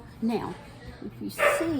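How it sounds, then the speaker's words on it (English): A dog barks and yips a few times indoors during a home kitchen session, short bursts heard under and between a person talking nearby. "Y'all have to excuse the dog barking"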